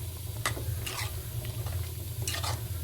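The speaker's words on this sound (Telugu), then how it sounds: "ఇప్పుడు మొత్తం వేసుకున్న తర్వాత అంతా బాగా మిక్స్ చేసేసుకుందాం." Rajma curry being stirred with water in a pot, with wet sloshing and scraping strokes over a steady low hum from the stove, close and fairly quiet, with no talking.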